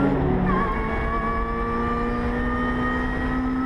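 A tuned Lotus Exige races flat out on a track, its engine a loud, steady drone that climbs in pitch through a gear and holds strong, heard alone without talk.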